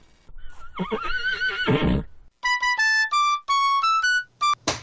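A loud, close horse neigh: a long wavering whinny, then a run of sharp, tonal, stepped bursts ending in a snort, standing alone with no talk.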